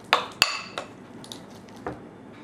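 Lamb burger mixture with kefir being mixed in a bowl: a few sharp clinks and knocks of a utensil against the bowl, spaced irregularly, with softer scraping between them.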